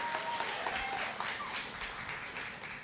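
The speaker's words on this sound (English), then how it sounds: "I really would prefer if we didn't do the clapping" An audience at a school board meeting claps in a steady, dense burst of applause that fills the room without a break, with a few faint voices mixed underneath.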